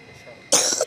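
A short, harsh cough from a sick child with a chest infection bursts out suddenly after a quiet moment, loud and close, with a rough breathy edge.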